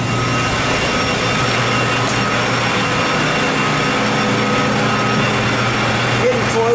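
An air stripper blower at a groundwater treatment system runs as a loud, steady, unbroken mechanical roar with a constant hum and no pauses.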